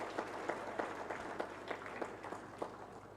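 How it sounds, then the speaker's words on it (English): An audience claps for a team at a health program learning event, a thin rhythmic patter of a few hands beating in slow regular strokes, fairly faint. "We can give them a round of applause"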